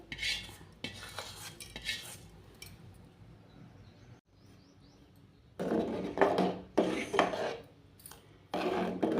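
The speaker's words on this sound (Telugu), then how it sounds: "ముందుగా నెయ్యితో వేయించుకున్న సేమియాలు వేసుకొని ఒకసారి తిప్పాలన్నమాట" A spoon stirs ghee-roasted vermicelli in a pot for payasam, giving close scraping and clinking against the metal in bursts, with quieter stretches and a brief pause midway.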